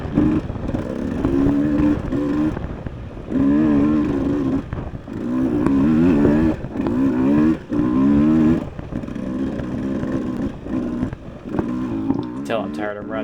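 A motocross motorcycle ridden around the Strange's Ranch track during a Mideast 2024 round 7 race, its engine revving and droning steadily up and down under continuous close talk.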